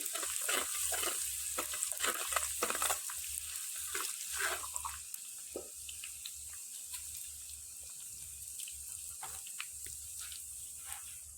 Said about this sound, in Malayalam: വെളുത്തുള്ളി ഒന്ന് പച്ച മണം വരാൻ മാറാൻ വേണ്ടിയിട്ട് ഒന്ന് ഇളക്കി കൊടുക്കാൻ പോവാം